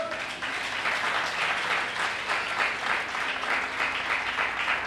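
A church congregation clapping for the Lord during a sermon, sustained rhythmic applause filling the hall at moderate loudness with no voice over it.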